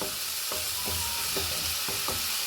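Potatoes frying in a pan for a sabudana dish, a continuous close sizzle with several soft scraping stirs at regular intervals, no talking.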